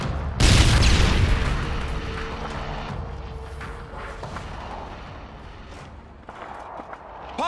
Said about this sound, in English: Grenade! Frag out!